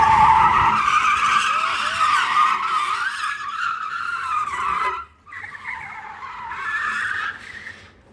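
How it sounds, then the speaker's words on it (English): Car on low-profile tires squealing and scraping as a wheel rim touches the floor, a loud, long screech that wavers in pitch and breaks off near the five-second mark before returning. "I'm pretty sure that noise was the rim touching the floor."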